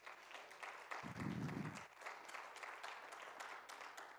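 A church congregation applauds in a short burst of clapping lasting under a second, moderately loud and roomy, set amid quieter room noise and faint rhythmic tapping.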